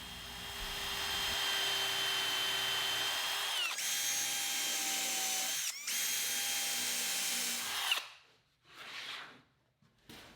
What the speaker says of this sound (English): Now that I have the holes drilled